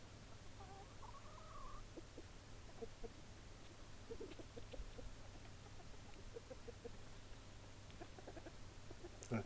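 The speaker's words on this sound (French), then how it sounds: "l'on voit des coqs et des poules" A rooster and hens clucking in a garden: faint, scattered clucks and short calls drifting at a distance over a steady low hum and background hiss, with no speech.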